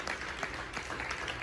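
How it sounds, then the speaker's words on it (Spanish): Applause from a church congregation, a dense, steady wash of clapping that carries through the whole moment with no clear gaps. "Denle palmas al Señor"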